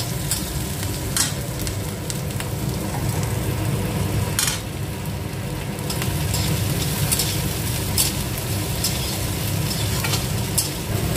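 Spices being fried and stirred in a pan for vegetarian rava dosa, a steady continuous sizzle with intermittent scraping stir strokes, close and moderately loud, no talking.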